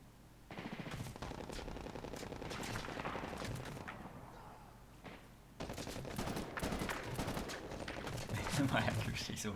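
Sustained automatic gunfire from the shooter game Medal of Honor Warfighter, loud and continuous, broken by a brief lull before dense rapid bursts resume.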